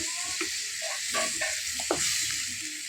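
Masala frying in hot oil for a restaurant-style chicken tandoori tikka masala, a steady close sizzle with intermittent clinks and scrapes of stirring, no talking.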